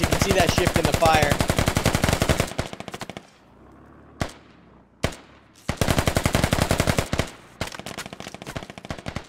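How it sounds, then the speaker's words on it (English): Rapid automatic gunfire traded between squads in the military shooter game Squad, loud bursts of machine-gun fire and single shots, a brief lull with scattered distant cracks, then sustained heavy fire resumes. "Shots being traded back and forth."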